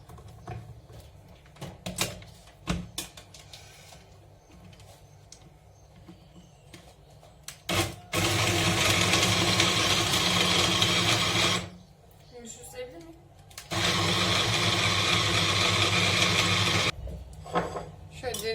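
An electric blender whirs loudly blending fruit for lemonade, two sustained bursts of several seconds each, preceded by clattering kitchen knocks and separated by a short pause.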